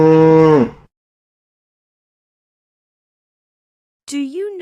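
A cow moos once, a loud, long, close low call that fades out, then a short silence before a rising, warbling tonal sound starts near the end.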